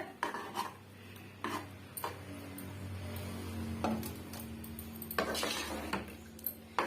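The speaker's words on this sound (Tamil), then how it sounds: "அரைச்சி வச்சிருக்க அரிசி மாவை வந்து இதோட நம்ம சேர்த்து கிண்டி விட்டுக்கலாம் மீடியமான ஃப்ளேமில் வச்சுக்கோங்க" Ground rice flour stirred into dough in a pan over medium flame for modak, repeated spoon clinks and scrapes against the pan at an uneven rhythm, close and quiet, with no talking.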